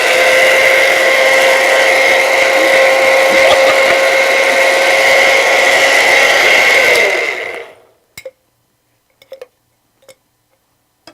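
Kitchen blender whirring loudly and steadily for about seven seconds before shutting off, followed by a few faint clicks and taps in near silence.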